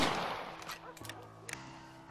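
A rifle shot in the Red Dead Redemption video game opens with a loud report that fades into a long tail. A few faint clicks and thuds follow.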